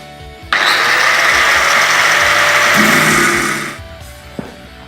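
A power tool screams loudly for about three seconds while cutting the end off a steel bar, with a steady high grinding whine that dies away, followed by a short metallic clink.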